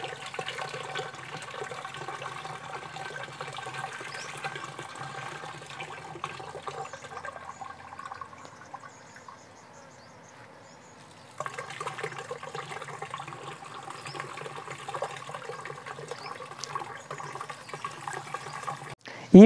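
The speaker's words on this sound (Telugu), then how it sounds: "కాచి చల్లార్చిన కషాయాన్ని ఈ విధంగా వడగట్టుకోవాలి" Cooled lemongrass decoction is poured through a strainer, making a steady, faint splashing trickle that pauses midway before the pouring resumes, ending with a brief clatter.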